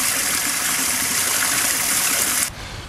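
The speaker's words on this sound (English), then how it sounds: "I've just put that hose down into the water" Water pours steadily from a garden hose into an IBC aquaponics tank, a loud, broad gushing splash that runs continuously and then drops sharply in level near the end, with no voices.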